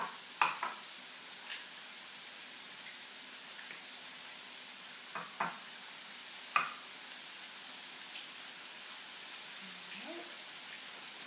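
A fork beats eggs in a bowl for vegetable fried rice with tofu, giving a few sparse, sharp clinks over a soft, steady sizzle in a quiet kitchen.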